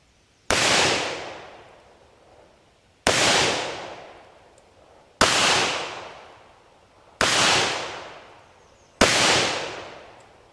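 Five sharp gunshots from a .38 caliber handgun firing X-Treme copper plated bullets, evenly spaced about two seconds apart, each a loud crack with a short ringing tail fading back to quiet.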